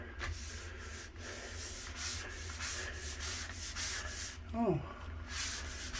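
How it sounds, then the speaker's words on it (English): Long-handled brush scrubbing a surface with a cleaning product, a steady close rubbing and sanding texture running throughout, with a brief voice near the end. "But I will start scrubbing it."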